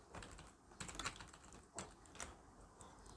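Fingers tap on a computer keyboard while HTML code is entered, a quiet run of quick uneven clicks with small bursts and pauses, close by and alone.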